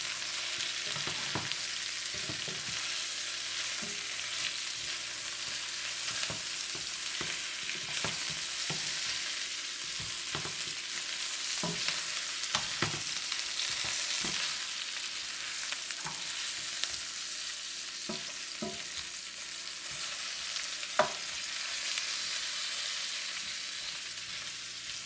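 Salt and white pepper are stirred together for a Chinese salt and pepper Cornish hen, with repeated scraping and clinking strokes at an uneven rhythm over a soft sizzling background.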